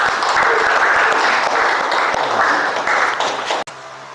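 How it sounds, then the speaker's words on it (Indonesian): A classroom group claps for the first group as it comes forward, a sustained burst of many hands clapping at close range, fading toward the end and then breaking off abruptly. "Tepuk tangan semuanya."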